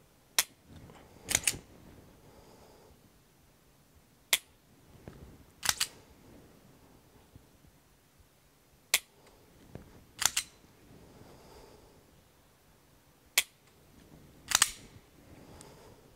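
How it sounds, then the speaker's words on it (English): Sharp, isolated dry-fire clicks from a Strikeman training system, about ten crisp snaps spaced irregularly a second or more apart, some in quick pairs, against a quiet background. "So you can hear that little click on the app over there."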